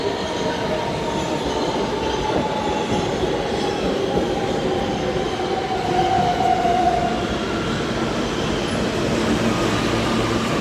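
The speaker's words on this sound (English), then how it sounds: "The train is here." A subway train rolls into a station with a loud, steady rumble of wheels on rails and a drawn-out metallic squeal of braking partway through, with no voices.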